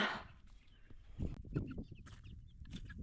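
Young chicks being carried outdoors in a bucket, clucking and peeping softly at close range amid rustling and handling bumps.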